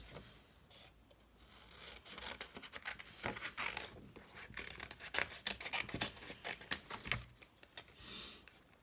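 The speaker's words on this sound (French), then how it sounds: "Je vais tout simplement venir à l'aide de mon ciseau les détourer." Scissors snipping around paper leaves cut for a handmade card, a close, continuous rustle of rapid small cuts and paper rubbing that builds in the middle and tapers off, with no talk.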